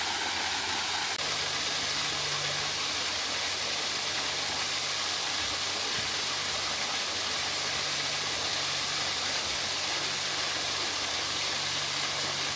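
An artificial waterfall pours into a spring at Rainbow Springs State Park, producing a steady, broadband rushing hiss that holds evenly throughout without voices.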